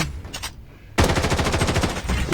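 Gunfire in the shooter video game Blood Strike: a brief shot, a short pause, then a loud sustained burst of rapid automatic fire.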